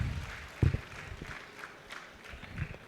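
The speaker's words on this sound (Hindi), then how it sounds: "तालियां बजा दीजिए" Audience applause at an engineers' convention keynote, heard as a faint, scattered patter of clapping from a crowd with a few sharper claps standing out.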